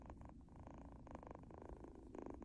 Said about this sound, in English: This is Bumper purring